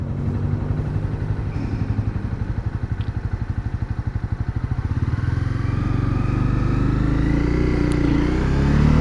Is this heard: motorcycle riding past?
yes